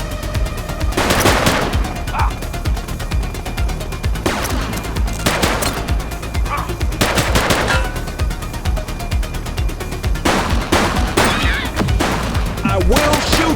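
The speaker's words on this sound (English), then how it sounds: "Shots fired!" Gunshots in The Precinct, a police game on PC, loud sharp bursts at an irregular rhythm over continuous background noise, with officers' voices shouting in between.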